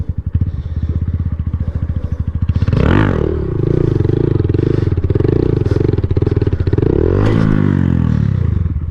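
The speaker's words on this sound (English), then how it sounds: "I just want to get a couple more of these circle wheelies." A Honda Grom motorcycle doing sit-down circle wheelies, its small engine droning loud and close with a steady throb, rising in two revving surges as the bike swings around.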